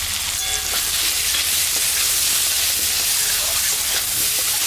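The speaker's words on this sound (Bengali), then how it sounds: "চাল কুমড়োটা ভাজা ভাজা হয়ে গেছে, এখন আমি ওর মধ্যে স্বাদ মতন লবণ আর পরিমাণ মতন হলুদ দিয়ে দিলাম।" Chopped ash gourd fries in a pan with salt and turmeric added, giving a loud, continuous close sizzle and hiss with faint stirring scrapes throughout.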